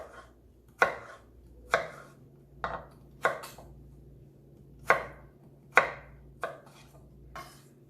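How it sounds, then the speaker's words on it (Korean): A knife chops potatoes on a cutting board, eight or so crisp separate strokes at an uneven, unhurried pace, close and clear with no talking. "어느 감자를 집어도 크기가 비슷하다 하는 느낌으로 정성껏 썰어주셔야 되겠어요"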